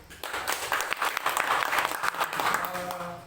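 An audience claps together at a teacher peer-teaching session, the applause rising quickly and holding dense and steady for about three seconds before thinning out, with a faint voice near the end.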